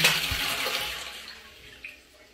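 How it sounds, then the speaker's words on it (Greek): A toilet flushing after limescale has been cleaned from the bowl, a close rush of water that peaks at the start and gradually drains away, with nothing else in the background. "Πατάμε οπωσδήποτε το καζανάκι"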